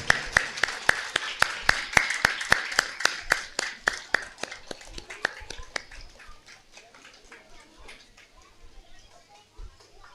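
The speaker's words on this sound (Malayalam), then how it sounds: "എല്ലാവരും നല്ല കൈയടി കൊടുക്കണേ" Audience at an anniversary award ceremony clapping in a burst of sharp, evenly spaced claps that start loud, then thin out and fade over about ten seconds.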